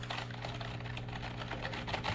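Keys clicking on a Redragon S101-5 gaming keyboard during unboxing, a quick close run of light plastic clacks over a low electrical hum.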